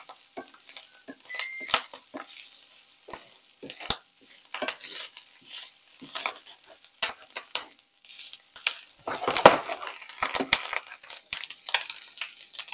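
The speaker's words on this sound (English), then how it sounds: "We've got our onion in there, sauteing." Onion sautéing in a pan for Cajun quiches, giving a soft, steady sizzle broken by scraping and stirring clatter, close and moderately quiet, with no talk.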